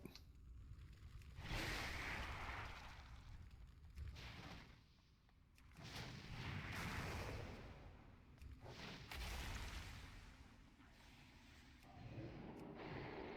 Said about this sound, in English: Exploding ghouls? I don't like the sound of that at all.